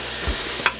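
Onions and flour roux sizzling in a pressure cooker, a steady close hiss of frying with a short sharp clink or stir near the end.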